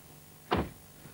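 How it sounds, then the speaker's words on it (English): A single brief mechanical clunk of a 1992 Dodge Viper's door latch releasing, opened from inside with no outer handle, followed by a faint softer thud, in an otherwise quiet space. "You have to reach inside to open the door."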